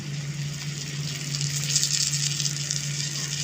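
Ginger-garlic paste hits onions frying in hot oil for a chicken and potato curry, giving a steady close sizzle and crackle with a constant low hum running underneath, no voices.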